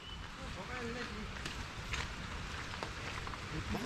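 Heavy rain falls in a forest near a waterfall, a dense, steady patter and wash of water with a faint voice briefly under it.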